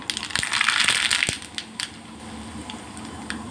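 Mustard seeds crackle and pop in hot oil for a tadka, giving sharp sizzling bursts and scattered close pops that are loudest early on, then thin out to sparse crackles.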